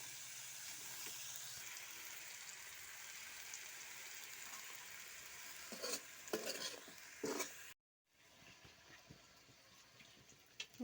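Large potato chunks are stirred in rendered pork fat in a pan, giving a quiet, steady sizzle broken by a few scraping stir strokes and a brief silent gap.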